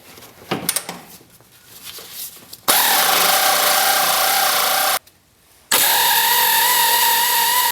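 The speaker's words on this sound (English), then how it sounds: "if you have air tools, now would be a great time to use them" Air impact tool loosening the bolts on a stock Jeep Cherokee bumper: after some shuffling and clanks, two loud sustained whirring bursts of several seconds each, separated by a short pause.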